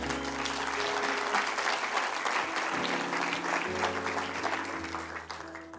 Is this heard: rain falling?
no